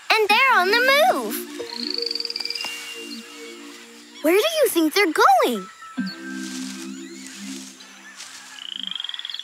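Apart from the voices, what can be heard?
poison dart frogs in the rainforest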